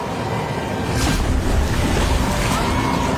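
Strong water rushes in a continuous loud surge, a broad turbulent roar of a fast current with steady wind-like noise and no pauses.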